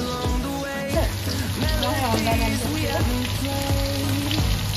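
Garlic, chilli and onion frying in hot mustard oil in a home kitchen, a loud, continuous close sizzle with crackling spatters and no voices.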